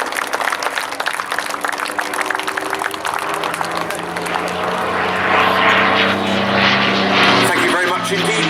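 An Allison-powered Mustang propeller fighter drones past at an air festival, a steady engine roar that swells louder toward the end, heard under a crowd and a commentator's talk.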